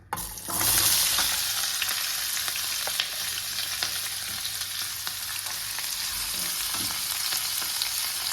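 Onions drop into hot desi ghee with a sudden loud hiss that eases into a steady, close sizzle, with faint occasional stirring clicks and no voices.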